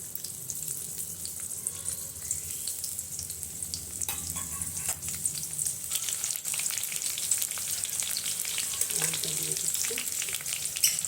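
Chopped onion and black cumin hitting hot oil in a pan alongside whole chillies, a steady close sizzle with scattered crackles and stirring, building slightly louder toward the end.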